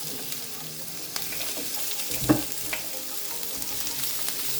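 Carrots and mixed vegetables fry in a pan for an Indomie noodle dish, giving a steady, moderate sizzle with occasional stirring clicks and one sharper scrape near the middle, no voices.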